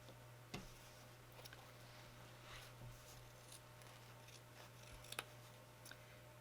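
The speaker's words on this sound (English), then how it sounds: "we're just going to snip into this corner a little bit" Scissors snipping into the corner of a fabric Easter bunny place mat, a few faint, sparse close clicks and cuts over a quiet room hum.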